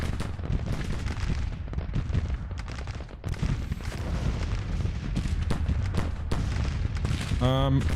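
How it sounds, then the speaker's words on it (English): Dismounted cavalry fire on artillery in a Civil War battle in the strategy game Grand Tactician, with dense, continuous rolling volleys of musketry and booms overlapping at a distance, and a brief voice near the end. "They are shooting probably at my artillery."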